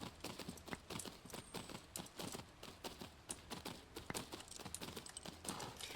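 Horse hooves canter in rapid, even clip-clop beats in the video game Tales of Rein Ravine, a crisp steady rhythm with no talk.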